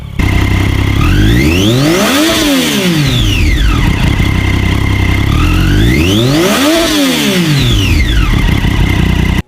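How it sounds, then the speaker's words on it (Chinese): A Triumph Daytona 675R sportbike engine roars loud and close in two sweeping surges, each rising sharply in pitch and then falling away, with no voices over it. "给大家听一下这代675声浪。"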